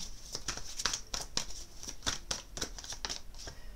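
Guardian-angel tarot cards are shuffled and drawn in a quick run of crisp, close flicks and papery snaps, about a dozen sharp strokes at an uneven rhythm, fairly quiet and without speech.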